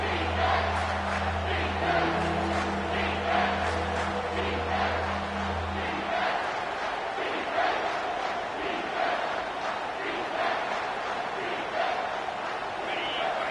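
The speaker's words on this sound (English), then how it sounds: "Decibels rising as the crowd gets behind this defense on 3rd down" A stadium crowd in a Madden football video game roars behind the defense on third down, a dense, continuous roar that rises and swells, with a low steady tone beneath it for the first half.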